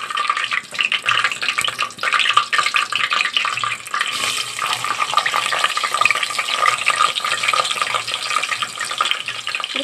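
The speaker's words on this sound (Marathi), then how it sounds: "त्यामध्ये आता मी टाकत आहे कांदा" Onion hits hot spiced oil in a pan and fries with a loud, steady crackling sizzle that fills the whole stretch, close up, with light stirring and no voices.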